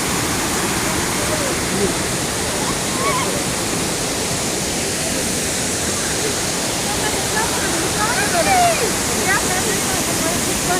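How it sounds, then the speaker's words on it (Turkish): Water from Oylat waterfall runs on as a stream down a valley, a steady broadband rush of flowing water that stays constant and fairly close, with faint brief sounds above it. "buradan da aşağı yukarı 1100 metre su dere şeklinde akıyor"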